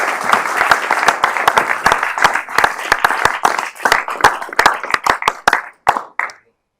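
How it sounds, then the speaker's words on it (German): Enthusiastic applause from a conference audience, with many hands clapping in a dense flurry of sharp claps. The clapping thins toward the end and stops abruptly, leaving silence. "bitte tosenden Applaus"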